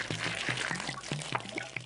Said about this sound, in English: Tap the glass to pour juice on Fluff.